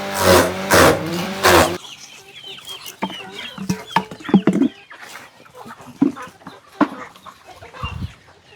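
Chickens cluck and squawk in short, scattered bursts on a farm, moderately close, following a loud opening passage of other sound, with occasional knocks and rustles between calls.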